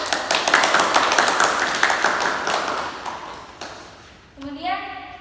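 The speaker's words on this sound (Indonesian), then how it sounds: "tepuk tangan untuk." Schoolchildren in a classroom clap their hands in a quick, rhythmic burst of sharp individual claps that gradually fades, followed by a voice speaking.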